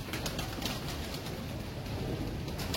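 An original Imamdin pigeon coos near a loft, soft throaty cooing mixed into a steady wash of background noise, fairly close and continuous with no talking.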